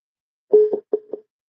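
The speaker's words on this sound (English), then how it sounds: "Oh, getting a phone call." A phone sounds two short double-pulse electronic rings in quick succession for an incoming call, clean and close against silence.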